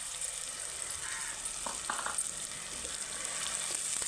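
Three green chillies fry in hot oil in a pan, a steady, even sizzle holding throughout, with a few faint clinks of stirring in the middle.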